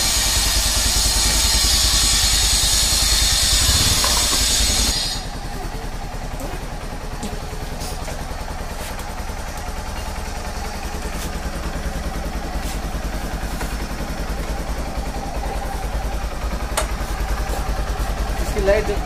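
A Bajaj Pulsar NS 160 motorcycle idles steadily up close after its carburetor and air filter were cleaned, with a louder, harsher burst in the first few seconds before it settles into an even, continuous idle.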